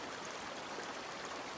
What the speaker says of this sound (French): Suivons le cours de cette rivière.